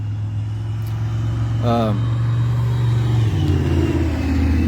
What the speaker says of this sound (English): sorry for all the noise and the cars going by